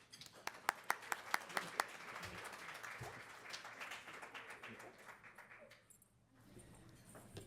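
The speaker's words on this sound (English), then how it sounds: "everybody give Rob a round of applause" An audience gives a round of applause for a speaker at a talk session, a burst of sharp claps at first that settles into steady, moderately loud clapping, then fades to near silence.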